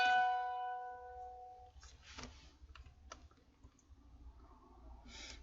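Quick bursts of clicking on a computer keyboard, close and fairly quiet, with irregular keystroke clusters following a short ringing tone at the start.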